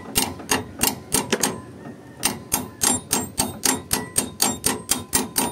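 An impact wrench tightens a bolt on the clutch bracket of a small boat, hammering in quick, regular loud bursts with brief pauses between runs.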